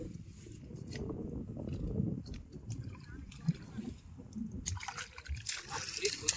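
Water being splashed and thrown out of a flooded pit during village crab catching, with irregular close sloshes and splatters heard under people talking.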